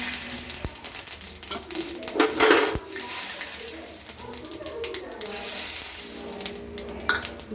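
Dried red chillies, whole cumin and a little sugar fry in hot oil, a steady sizzle with metal stirring clinks and a couple of sharp knocks of utensil against the pan, no talking.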